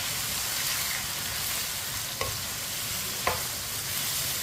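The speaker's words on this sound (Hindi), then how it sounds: "लहसुन और प्याज को भी 2 मिनट के लिए फ्राई कर लेंगे साथ ही" Chopped onion and garlic fry in a pan over medium heat, giving a steady, dense sizzle with two faint utensil taps against the pan, no voices.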